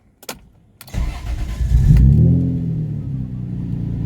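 A BMW E36 with a fuel gauge that won't rise cranks after a couple of sharp clicks, then its engine catches and settles into a steady, close rumbling idle.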